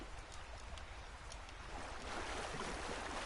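A large waterfall in Red Dead Redemption 2 Online gives off a steady, even rushing roar of falling water, quiet and continuous with no voices.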